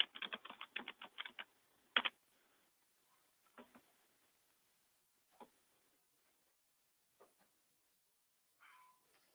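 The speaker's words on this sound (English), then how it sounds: "My typing is horrible today" A quick burst of clicking keystrokes on a computer keyboard, then sparse isolated taps and pauses, quiet and close with no talk.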